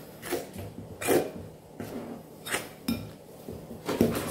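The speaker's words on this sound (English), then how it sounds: "So you're just gonna add it a little bit at a time and stir it in between." Spoon stirring milk into dumpling dough in a bowl, a series of soft scraping and clinking strokes against the sides, close and moderately loud in an uneven rhythm.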